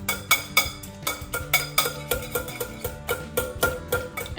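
A whisk mashes and stirs avocado for guacamole in a bowl, making rhythmic clinks and soft squelching strokes that repeat steadily at close range with no talking.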